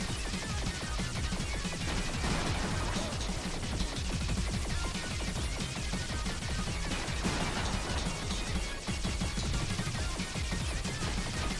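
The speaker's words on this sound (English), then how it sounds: "Those are explosions and they hurt." Dense, continuous bursts of video game explosions and blasts in Super Alloy Ranger during a boss fight, crashing and rattling over each other at a steady, loud level throughout.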